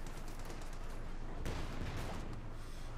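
Dense, continuous gunfire from a Company of Heroes 2 battle, a rattling wash of shots with a heavier burst midway, faint and distant-sounding under a steady noisy bed.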